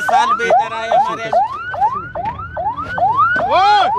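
Loud, close ambulance siren in Quetta cycling in quick rising-falling whoops, about two per second, continuous and alone.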